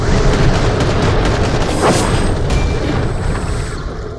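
Grenade blasts in the Borderlands video game erupt as a loud, dense booming rumble with a sharp crack near the middle, then fade slowly into a lingering roar.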